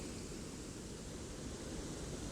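Small waterfall cascading nearby, a dense, steady rushing wash of water that holds even and unbroken throughout, with no voices over it.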